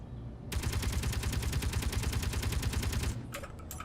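Rapid automatic gunfire rattles continuously for about two and a half seconds at an interior turret in Space Engineers, then stops, leaving a few scattered impacts and faint background hum.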